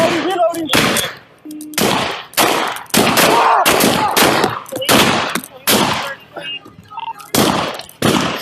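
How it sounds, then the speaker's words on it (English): Rapid gunfire during a police shootout with a rifle-armed suspect, a close, loud string of sharp cracking shots fired in quick uneven bursts, with shouting between volleys. "Shots fired! Shots fired!"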